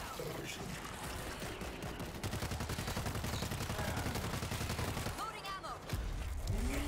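Machine gun fire in the zombie shooter World War Z, a dense stream of rapid shots running steadily through most of the moment amid other game noise, with a brief lull near the end before the firing resumes.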